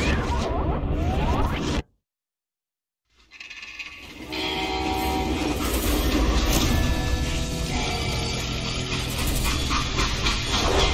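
A freight train in Call of Juarez: Gunslinger rumbles and clatters continuously after a brief silent gap, with a loud rushing roar and metallic rattling.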